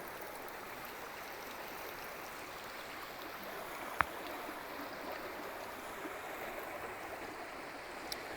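A river and waterfalls run through ancient woodland in a steady, unbroken rush of water that holds an even level throughout, with one brief sharp click partway through and no voices.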